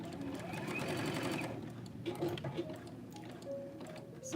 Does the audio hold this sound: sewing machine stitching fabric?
yes